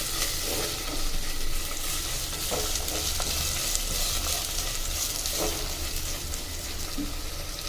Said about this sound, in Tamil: நல்லா வெங்காயத்தை வதங்குற அளவுக்கு விடுங்க மக்கள் நல்லா பொன்னிறமாக